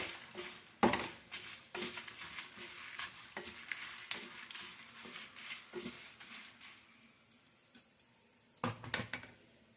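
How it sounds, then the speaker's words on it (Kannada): Urad dal and coriander seeds are dry-fried without oil in a pan for amla and coconut chutney, with a spoon scraping and clinking against the metal in uneven strokes over a soft, steady sizzle. The sound is close and fairly quiet. "ಎಣ್ಣೆ ಏನಿಲ್ಲ ಡ್ರೈ ಫ್ರೈ ಮಾಡ್ಕೊಳೋದು ಚೆನ್ನಾಗಿ ಫ್ರೈ ಮಾಡ್ಕೊಳ್ಳಿ"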